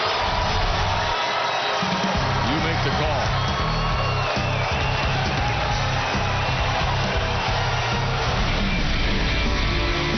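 Crowd noise at a 2014 Class AAA girls basketball state championship between Park Center and Marshall, a steady loud roar of cheering and shouting running throughout, with a commentator talking over it.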